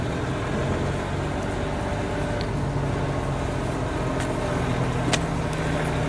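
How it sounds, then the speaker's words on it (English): A tractor truck rolls past a park ball field, its steady low engine rumble filling the background at moderate distance with no talking. "there's some tractor truck"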